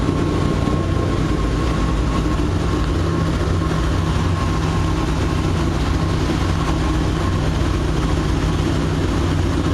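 A 1976 BMW 2002 engine with an automatic choke runs after starting, giving a steady loud idle with a constant low rumble as it warms up, with no talk.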